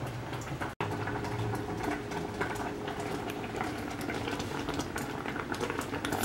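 Thick strawberry rhubarb fruit mixture bubbling hard in a pot on a stovetop, a dense continuous burble of popping and spattering with a brief dropout near the start, heard close with no talking.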